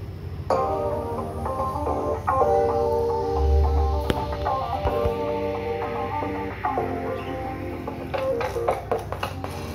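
Tonal electronic sound from a solar-powered device running off a small used solar panel in weak sunlight, cutting in and out irregularly with brief dropouts, over a steady low hum.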